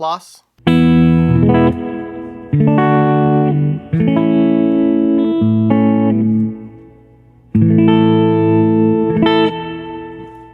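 Clean electric guitar chords through a Dr. Z Z+ amp ring out with a wash of reverb, played in several strummed phrases with short pauses between them.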